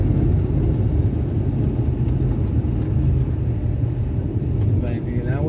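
A car driving at night, a steady loud low engine and road rumble from inside the cabin that continues without a break.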